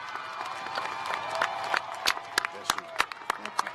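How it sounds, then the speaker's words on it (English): A spring 2021 commencement crowd breaks into applause for the new graduates: scattered claps start thin, then grow into sharp, irregular bursts. "Please give our newest alumni and our graduates a roaring round of applause."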